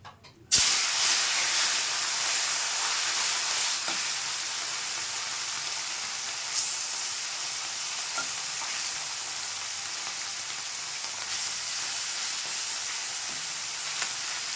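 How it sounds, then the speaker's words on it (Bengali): Morola fish dropped into hot mustard oil in a kadai: a loud, continuous sizzle that starts abruptly and keeps up steadily throughout. "তেলটা গরম হয়ে গেছে, মাছটা দিয়ে দিচ্ছি।"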